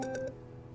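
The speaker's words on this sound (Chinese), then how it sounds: "我要你给劲风打个电话" Three quick telephone keypad tones sound in close succession as a number is dialed, then the line falls quiet in an indoor drama scene.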